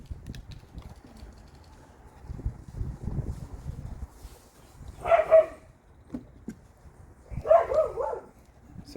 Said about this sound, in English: Sorry for my neighbor's dog in the back.